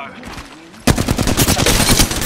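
Apex Legends gunfire, quiet game ambience and then a sudden loud burst of rapid automatic shots firing in a fast, steady stream to the end.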